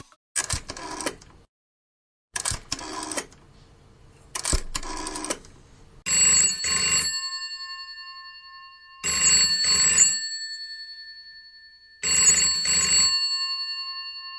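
An old-style telephone bell rings loud and close in three bursts about three seconds apart, each a sharp metallic jangle with a lingering ring, after several shorter clattering mechanical bursts.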